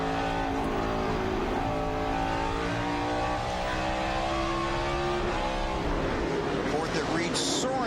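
NASCAR Cup race cars racing at Sonoma in 2007, a dense, loud engine drone with rising and falling revs from several cars, steady throughout with a commentator talking over it.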